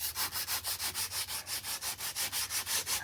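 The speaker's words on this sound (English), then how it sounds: "I got the sanding files" Rapid, regular back-and-forth rasping of sanding files, about six strokes per second, close and steady, with no voices.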